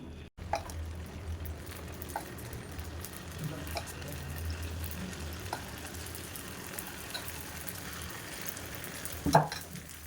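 Kuzhi paniyaram made from mappillai samba rice frying in a blend of ghee and oil in a paniyaram pan, a steady low crackling sizzle throughout with a brief louder clatter near the end.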